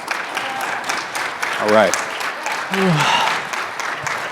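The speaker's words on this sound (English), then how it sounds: "So could you all please give the studs a round of applause?" An audience at an aviation forum session claps to thank student interns, a brief spread-out patter of applause heard under a man's short spoken remark.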